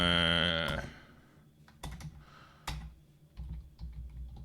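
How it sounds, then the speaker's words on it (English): Computer keyboard typing heard close to a nearby microphone, with a loud harmonic tone fading at the start, then irregular bursts of clicking keystrokes. "I'm terrible at typing, especially when my microphone's like right here."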